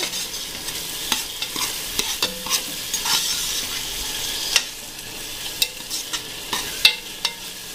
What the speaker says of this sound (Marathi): मित्रांनो, हे बघा इथं आपला छान प्रकारे मसाला फ्राय होतोय। आता आपण त्याला छान प्रकारे अजून एकदा हलवून घ्यायचं आहे।